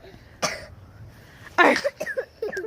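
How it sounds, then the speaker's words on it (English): A single burst of coughing stands out briefly, followed by a few short throaty sounds and quieter noises nearby. "Uh-oh, coughing."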